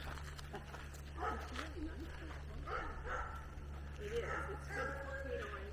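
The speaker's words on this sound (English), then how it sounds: "Howling dogs." Dogs howling and yipping outdoors at a rural home, repeated wavering cries at a moderate distance over a steady low engine-like hum, with people talking nearby.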